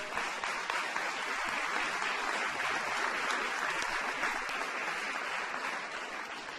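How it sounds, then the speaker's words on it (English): A large audience applauds steadily at a White House ceremony honoring the 2012 Baylor women's basketball team, a dense, continuous clapping with no voices over it. "That's worth an applause right there."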